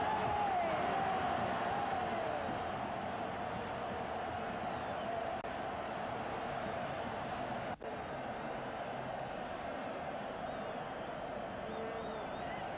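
A stadium crowd in Seville roars after a Spain goal, a dense, steady wash of distant cheering and noise that stays level throughout, with faint whistles early on.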